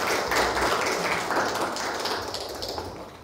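Applause from a church campus-worship gathering welcoming a newly installed club president, a professor, steady crowd clapping that holds for several seconds and tapers slightly toward the end.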